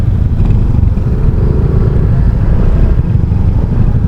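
Motorcycles and other vehicles move through traffic on a muddy one-way road in a barangay in Tanza, Cavite, a loud continuous engine rumble and road roar without any break.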